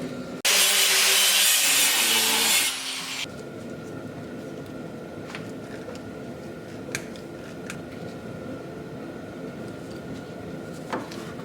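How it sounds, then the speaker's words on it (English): A drill bit bores out a seized set screw on an Argo vehicle, giving a loud, whining grind of nearly three seconds. Quieter rustling and scattered small knocks follow. "I'm just going to use a drill bit and drill out that little set screw"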